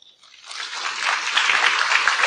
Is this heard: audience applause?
yes